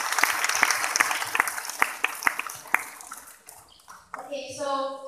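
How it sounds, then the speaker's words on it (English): Audience at a Grade 12 graduation ceremony applauding the graduates, a burst of clapping with sharp individual claps that fades out, followed by a voice beginning to speak. "let us all clap our hands for it"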